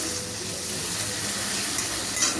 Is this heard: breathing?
no